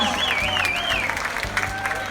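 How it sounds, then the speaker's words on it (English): Cruise ship bingo audience applauds and cheers for a prize winner, steady clapping and crowd noise under a voice talking over it, close and moderately loud. "Give her a big round of applause"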